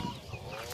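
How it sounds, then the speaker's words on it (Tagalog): Loose chickens on a chicken farm give a brief, faint clucking, heard as a short, soft burst against low background noise. "nakawalang manok"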